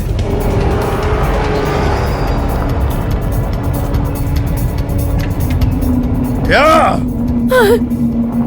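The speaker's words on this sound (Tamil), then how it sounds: "வண்டியை வேகமா ஓட்டு." A car racing at speed through a desert, its engine a loud steady roar, with sharp tire squeals near the end and shouting voices over the top.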